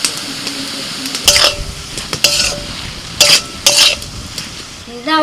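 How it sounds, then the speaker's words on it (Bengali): Shrimp stirred with turmeric powder in a hot pan, a steady sizzle under several scraping bursts of a utensil against metal, close and fairly loud. "এবার চিংড়ি মাছ দিয়ে দিচ্ছি হলুদ গুঁড়ো"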